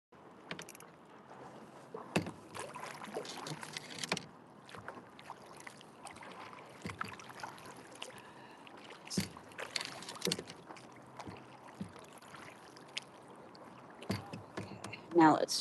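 A kayak paddled across open water while fishing, with a few splashing paddle strokes close by over steady wind noise and water movement.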